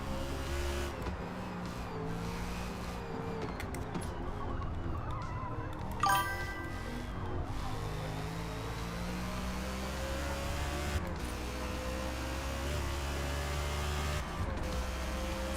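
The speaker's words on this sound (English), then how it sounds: "Sounds like a NASCAR." An American V8 engine in a British race car in Forza Motorsport drones loudly and steadily, a deep rumbling roar with shifting pitch, plus a short sharp burst near the middle.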